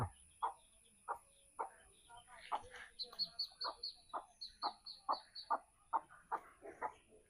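A mother hen clucks steadily, about a dozen short low clucks at roughly half-second intervals, close by, with faint high chick peeps mixed in. No one speaks.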